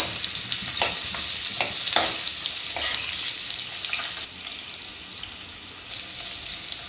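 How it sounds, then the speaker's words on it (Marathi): Finely chopped onion fries with cumin in a pan, a steady close sizzle broken by several sharp spoon taps and stirring scrapes, fading slightly toward the end. "आता यात आपण भरपूर असा बारीक चिरलेला कांदा टाकून घेऊ"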